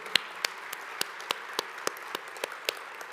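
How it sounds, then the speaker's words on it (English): A small luncheon audience at an awards event claps for John, the outgoing president, with sparse, separate hand claps spaced about a third of a second apart over a soft background wash. "let's give a special round of applause for John."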